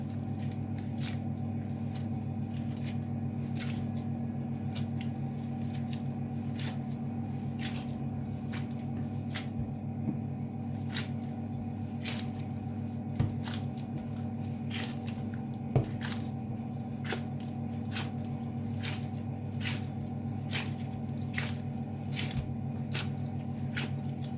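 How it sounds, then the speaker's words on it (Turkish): Chocolate chip cookie dough is kneaded by hand on a countertop, giving a long run of soft squishy presses and light taps at close range over a steady low hum, with no voices. "Evet geri kalan kısmını da tezgahımda çalıştıracağım bu şekilde."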